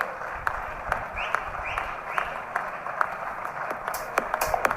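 An audience clapping in scattered, uneven bursts, moderately loud, with sharp individual claps standing out over a murmuring background.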